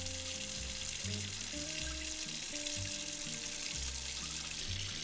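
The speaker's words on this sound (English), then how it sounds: "I do this directly in the rice cooker pot using cold water." Cold water runs and splashes as jasmine rice is rinsed directly in a rice cooker pot, a steady close watery wash with no talk.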